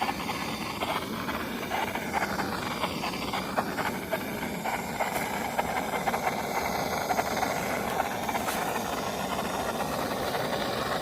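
A MAPP gas torch gives a steady, moderately loud hiss throughout as it heats Dodge Ram plastic trim, with faint crackles and clicks scattered over it.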